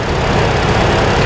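A 2015 Ford Transit van with a misfire runs up close, its engine giving off a loud, dense, continuous drone with no talking over it.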